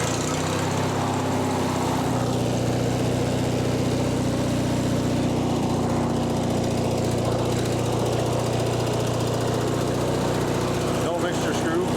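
A Craftsman riding mower's small engine idles steadily and loudly up close, a continuous rough hum with a steady low drone; it has water in the fuel.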